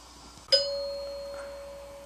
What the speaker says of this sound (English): Installing the new doorbell.